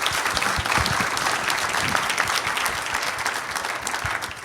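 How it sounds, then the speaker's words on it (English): An audience at a conference panel applauds, a dense, steady clapping that carries on throughout. "Let's give them all a round of applause."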